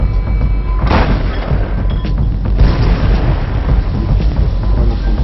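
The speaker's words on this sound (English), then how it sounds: "The shells explode beside the target," Deep, heavy booms of naval artillery shells exploding beside a target roll out one after another over a constant rumbling din, loud and continuous.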